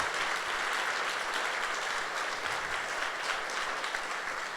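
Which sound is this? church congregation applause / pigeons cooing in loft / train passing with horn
church congregation applause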